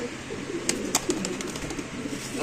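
Soft low cooing of pigeons close by, with a few brief scratchy taps and rustles in between.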